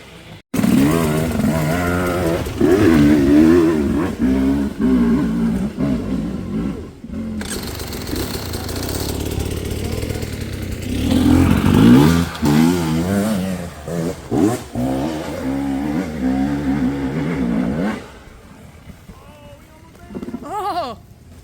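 A dirt bike engine revs hard through an enduro hill climb, loud and close with rising and falling pitch, popping and bogging down midway before revving again, then dropping away near the end as voices talk.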